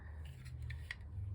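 Brief snipping clicks from scissors, a few quick cuts close by over a low steady hum, with no talking.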